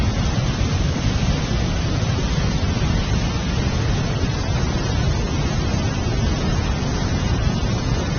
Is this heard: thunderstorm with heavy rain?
yes